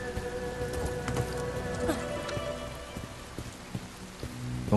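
Steady rain patters on surfaces in the Bright Memory Infinite video game, a dense continuous hiss with scattered drop ticks and faint sounds of play mixed in.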